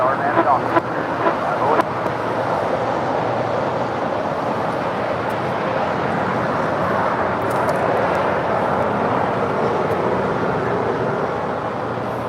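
An airliner rolls for takeoff on runway 25 right at LAX, a steady broadband engine roar that holds evenly throughout, with wind buffeting the microphone.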